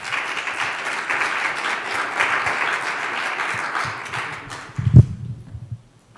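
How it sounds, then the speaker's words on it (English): An audience at an evening talk on architecture and human scale claps after a speaker's introduction, dense applause filling the room before thinning out, with a few louder claps and a bump near the end before it fades. "So let's give a round of applause for Thomas Dougherty."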